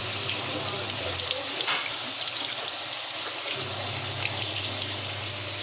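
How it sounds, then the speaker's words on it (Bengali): Hands washed under a running kitchen tap, a steady, close gush of water that flows without a break. "হাতটা ধুয়ে নিই"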